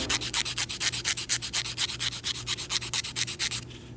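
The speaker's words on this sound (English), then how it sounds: "I'm using 220 grit sandpaper" Folded 220 grit sandpaper rubs back and forth over a wooden inlay in about twenty quick, even, raspy strokes, close and steady, with no voices.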